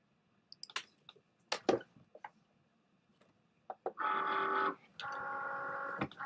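A craft cutting machine takes in a sheet of cardstock, with scattered handling clicks and taps followed by two bursts of motor whir as the rollers feed the card in.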